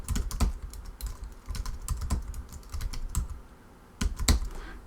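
Someone types a password on a computer keyboard during database setup for a local web server, producing close, rapid clusters of key clicks with brief pauses and a final burst of keystrokes.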